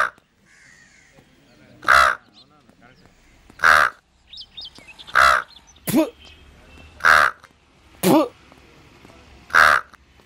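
A crow caws loudly and repeatedly, about seven sharp calls spaced at roughly regular intervals, with people talking faintly between them.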